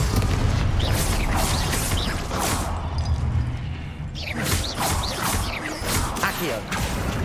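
The Confringo blasting spell goes off in Hogwarts Legacy with booming, crashing bursts and whooshes, several loud close impacts spread across a busy combat scene, with a voice speaking briefly among them.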